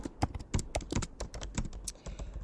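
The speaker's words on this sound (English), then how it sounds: "I'm going to click on T on my keyboard and I'm going to start typing" Rapid computer keyboard typing while entering text in a Figma web design, with irregular close clicks and key taps at a moderate level and no talking.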